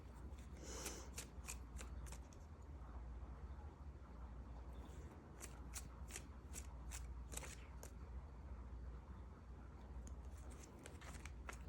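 Tarot cards shuffled by hand in a quiet room, a soft steady riffling with repeated crisp flicks and snaps spread across the whole stretch.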